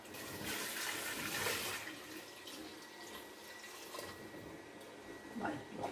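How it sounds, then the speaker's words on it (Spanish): Water pours steadily into a pressure cooker over chickpeas and a piece of ham, a continuous rushing splash of running water that swells and eases slightly, quiet overall with no talking. "esto lo voy a cubrir de agua"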